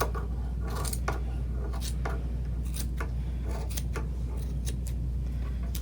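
Sharp, crisp scissor snips repeat in an uneven rhythm, each a quick close metallic cut through yarn, heard up close with no talking.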